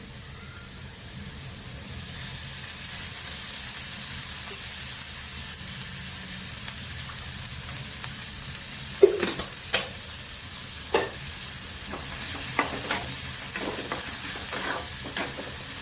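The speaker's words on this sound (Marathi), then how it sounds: "कांदा पण छान ते परतून घेऊया यामध्ये आता तेल घालून घेऊया" Chopped onion frying in hot oil in a pan while cooking a capsicum vegetable dish: a steady hissing sizzle throughout, with a run of sharp spatula taps and scrapes against the pan in the second half, up close.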